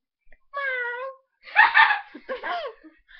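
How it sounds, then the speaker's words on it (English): A pet cat meows up close, one long drawn-out call followed by two shorter, rougher meows, with quiet pauses in between. "this is my pet cat, Yugi."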